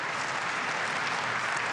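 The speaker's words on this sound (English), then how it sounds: "And now they're getting right behind Vladimir Samsonov." German crowd applauding at a table tennis match at the 2015 German Open, a steady wash of clapping from many hands, dense and even throughout, no voices standing out.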